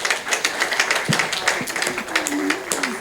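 A church congregation applauds for God, a steady mix of many hands clapping with a few louder taps standing out. Faint voices sound beneath it.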